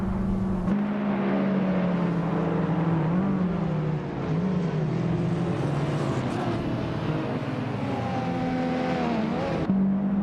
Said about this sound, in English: Pierre Dope is driving a Nissan Silvia S13, which is a classic drift machine.